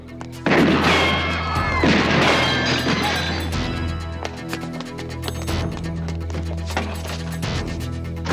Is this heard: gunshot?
yes